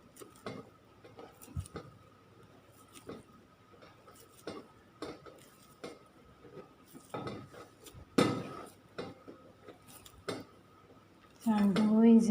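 Whole wheat paratha dough kneaded by hand in a bowl, giving soft irregular thuds, slaps and light clinks against the bowl, close and fairly quiet, with a louder burst near the end.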